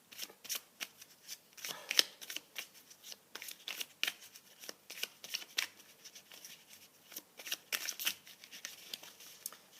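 Tarot cards being shuffled, with steady close riffles and soft papery slaps repeating at an uneven rhythm for about ten seconds, fairly quiet, with no talking.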